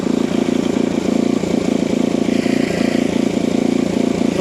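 Engine of a rice harvester, a reaper-windrower type, running steadily and loudly up close as it is put into reverse gear, with a constant mid-pitched rumble throughout.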